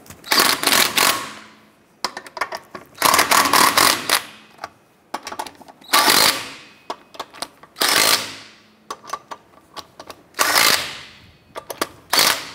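Lug nuts on a 2006-2013 Chevrolet Impala wheel being snugged down with a power tool, giving about seven loud bursts of rapid rattling hammering, each roughly a second long, separated by short pauses and scattered clicks.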